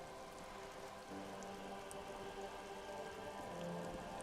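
Steady, soft rain ambience from the Disco Elysium video game, a quiet even hiss of falling rain with a faint tonal hum beneath it and no pauses.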